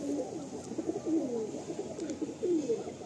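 Madrasi and Andhra breed pigeons coo softly in repeated low, rolling calls, fairly faint against a quiet background hum with no talking.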